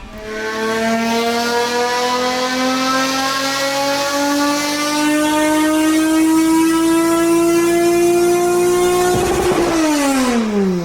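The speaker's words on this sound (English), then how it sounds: "listen to this very free-flowing exhaust bust all of our eardrums" A Toyota MR2 with a swapped 2GR engine and a free-flowing exhaust revs loudly on a dyno, its pitch climbing steadily for about nine seconds before dropping sharply as the throttle closes.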